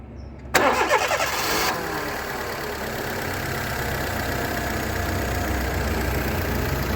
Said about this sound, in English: I'll start the car up now and show you what it's like when it's running.